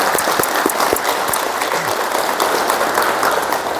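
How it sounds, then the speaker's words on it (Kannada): A yoga class applauds after finishing 108 Suryanamaskara at a Rathasaptami session, steady dense clapping from many hands filling the room for the whole stretch, loud and continuous. "108 ಮುಗಿಸಿದವ್ರಿಗೆ ಫಸ್ಟ್ ಇನ್ನೊಂದು ಸರಿ ಕ್ಲ್ಯಾಪ್ ಮಾಡೋಣ"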